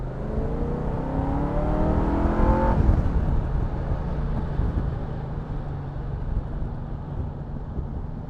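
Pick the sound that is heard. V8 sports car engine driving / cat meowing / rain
V8 sports car engine driving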